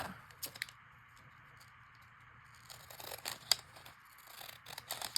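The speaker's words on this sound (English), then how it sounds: "I'm going to trim that one just a bit" Scissors snip and trim a paper page for a handmade button-card mini notebook, making faint, close cuts and light paper crinkles in an otherwise quiet room.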